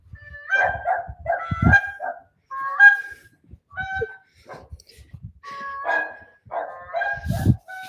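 Dogs on a ranch give several loud, uneven barks. A goose in the house honks among them, and there is no talking.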